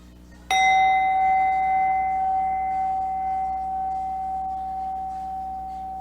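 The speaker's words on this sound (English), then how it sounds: "Let's start with the first chime" A single chime struck once, ringing out clear and bright with a long sustained tone that slowly fades over several seconds.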